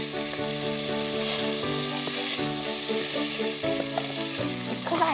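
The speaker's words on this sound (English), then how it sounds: "I know it's making an awful noise and an awful lot of spitting" Loud, steady sizzling and spitting of beef frying in a very hot pan, continuous crackle with a faint melodic tone underneath.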